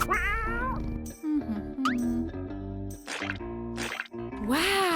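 A house cat meows repeatedly indoors, several close, loud, drawn-out calls with rising and falling pitch, while people decorate a room made for pets.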